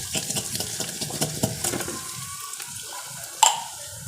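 Corned beef sizzles in deep oil with a soft, steady crackling hiss, close and quiet, along with occasional stirring scrapes and a sharp clink near the end.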